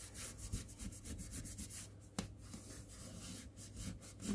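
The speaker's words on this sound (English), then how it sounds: "I'm going to put some lotion on and rub it in here." Soft, steady rubbing of lotion worked by hand into the leather cover of a Midori MD B6 Slim journal, a quiet repeated swishing close to the mic.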